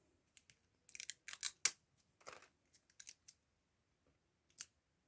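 Small scissors clicking and snipping close up, in scattered short bursts of crisp metallic snaps against near silence.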